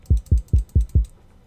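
Five plain unpitched kick drum hits from a sample in FL Studio, evenly spaced and punchy with deep low thumps and short decays, followed by a brief quiet tail.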